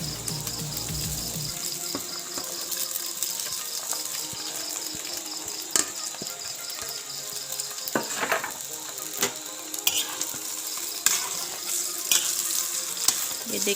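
Chicken and boiled rice fry together in a pan for homemade chicken chow, a steady close sizzle with intermittent scrapes and clatters of stirring, while a high, continuous insect-like chirr runs through the background and no one speaks.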